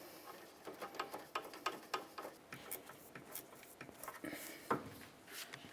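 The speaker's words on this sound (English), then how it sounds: "you can just use your extension and ratchet" Ratchet with an extension clicking faintly at close range while loosening an inner tie rod on a 1999–2003 Toyota Solara, a rapid string of light ticks and taps, no talking.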